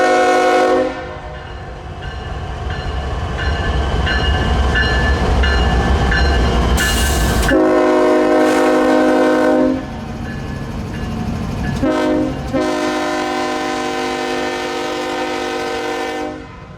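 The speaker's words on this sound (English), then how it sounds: "light GEVOs were moving from the nearby Martin Marietta loadout back to CSX's Davis Yard." Light GE Evolution locomotives moving out in Leland, their horn blasting loud and near in long sustained chords with short breaks, over the deep rumble of diesel engines.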